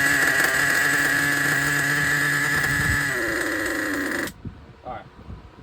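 A Traxxas 4-Tec nitro RC car engine buzzes at a high, steady idle close by, its tone dropping slightly before it cuts out abruptly. Brief quiet talk follows.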